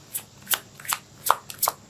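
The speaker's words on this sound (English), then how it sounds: "let's pull out a physical card for you here." Tarot cards shuffled and pulled by hand during a love reading, giving a run of quick, crisp riffling bursts spaced roughly every third of a second, close up and fairly quiet with no talking.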